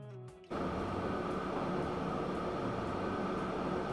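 Train ride in the video game Transport Fever 2: a steady, even rumble of rolling rail cars takes over after a brief opening sound and continues unbroken, with no talk.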